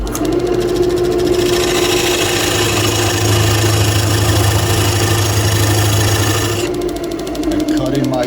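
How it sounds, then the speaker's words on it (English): A thin parting tool cuts a recess in monkey pod wood spinning on a lathe, a steady hum with a scraping, buzzing texture that holds for several seconds before the cut eases off near the end. "I take my parting tool, my thin parting tool, and I just go right on the outside of here on a slight angle"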